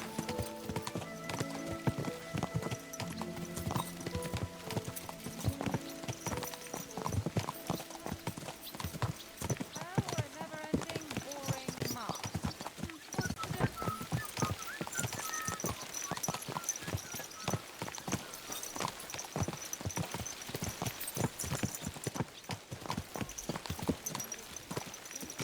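Steady clip-clop of horse hooves while riding in Kingdom Come: Deliverance 2, a continuous close trotting rhythm under shouted voices and harmonic game music.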